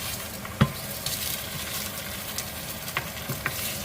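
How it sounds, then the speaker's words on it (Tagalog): Ginger sautéing in a pan for wonton soup, a steady close sizzle with a few soft stirring clicks and taps over it. "Igisa ng bagya yung luya."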